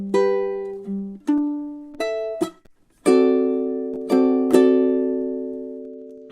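A ukulele plays blues, picking single notes that move into full strummed chords, each stroke ringing and decaying, with a short pause just before the strumming begins.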